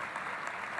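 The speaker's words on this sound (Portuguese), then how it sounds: "Eu queria pedir uma salva de palmas a todos os palestrantes" Applause for the speakers at a gathering with Lula and Mujica: a brief, steady wash of many hands clapping together, filling the short moment at moderate level with no voices over it.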